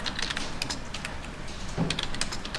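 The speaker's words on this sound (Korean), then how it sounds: "F5번 키를 누릅니다" Someone taps keys on a computer keyboard in a quiet room, giving a scattered run of light, close clicks.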